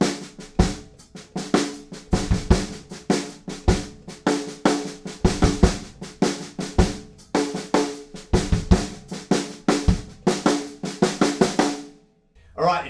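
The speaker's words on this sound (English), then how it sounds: "if you pop your hi-hat playing the eighth notes" Drum kit groove from a remix, with steady hi-hat eighth notes over punchy kick and snare hits, loud and dense for about twelve seconds before a brief pause and restart.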